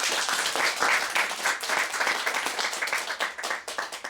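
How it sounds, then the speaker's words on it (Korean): A room of pastors and families at a church retreat closing gives dense, steady applause to a photographer, fairly close and sustained, tapering slightly toward the end. "한 박수 한번 부탁드립니다"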